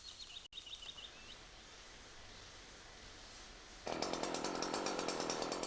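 A chainsaw bar works through a tree during felling: faint outdoor ambience with bird calls at first, then the saw engine roars in loud and steady, close and continuous to the end.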